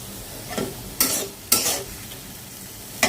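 Vegetables frying slowly in a wok, a low sizzle broken by four separate stirs, each a short scrape of the spatula through the pan, close by.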